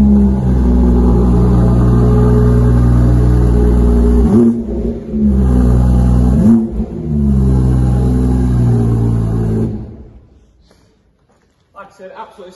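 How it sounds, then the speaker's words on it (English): A BMW M240i's engine, already warm, idles with a deep steady rumble, revs up twice with brief dips, then cuts off near the end, leaving quiet with faint sounds. "I'll just give the car a quick start here just so you can hear the tune that these cars play"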